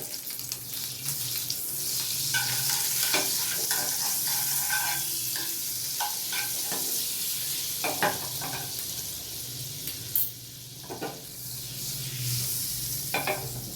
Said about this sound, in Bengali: তেল গরম হয়ে গেছে, এবার আমি একটু বাটার দিয়ে দিচ্ছি